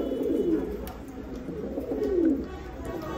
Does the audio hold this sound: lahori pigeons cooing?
yes